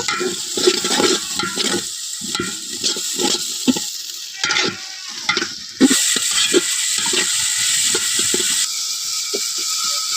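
Ground ginger, garlic, cumin and coriander paste fries in a pan, a bright sizzle broken by repeated scraping stirs with a spoon, loud and close, with a sharper burst of hissing partway through.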